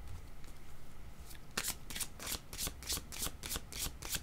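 Playing cards are shuffled for a card reading, a rapid run of riffling flutters in quick succession, close and clear against faint background noise, with no talking.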